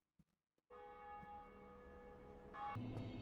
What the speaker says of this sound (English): 2 gargoyles later, the bell will be rung.